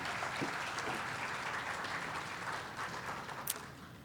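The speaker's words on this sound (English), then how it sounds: "Another round of applause." Steady applause from an outdoor crowd at a mural dedication, an even wash of many hands clapping at moderate distance, with one sharper clap standing out near the end.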